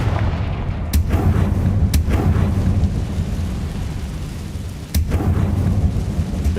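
An explosive blast spell going off in Dark Souls, heard as several sharp, booming cracks over a continuous loud rumbling game backdrop, with distinct impacts near the start and another heavy burst near the end.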